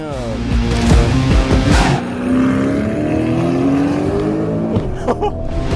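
A fast car roars past at high speed, its engine revving loudly with rising and falling pitch sweeps and a brief tire squeal, close and dominant with voices reacting in the background.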